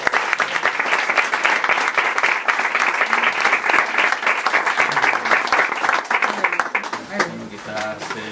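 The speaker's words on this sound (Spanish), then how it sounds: "Un aplauso para Carlos." An audience applauds at a book presentation: sustained dense clapping from a crowd, loud and steady, fading out near the end as it gives way.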